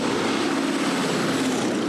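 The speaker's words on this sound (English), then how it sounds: "This is a B-17. It's a World War II bomber" Boeing B-17 World War II bomber with propeller engines, giving a steady, loud droning roar with a low hum running through it, continuous and unbroken, with no talking.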